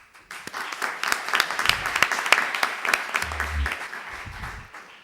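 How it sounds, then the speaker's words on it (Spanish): Audience applause welcoming a speaker at a Spanish conference hall, a dense burst of many hands clapping that swells quickly and carries on steadily for about five seconds. "recibámosla con un fuerte aplauso"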